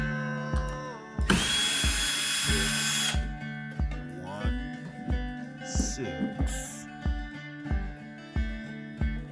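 Repeated short bursts of a cordless drill with a Phillips bit whirring as it backs out screws from the back of a Supro Delta King 10 guitar amplifier, with clicks and clatter between, plus a brief loud high-pitched whine early on.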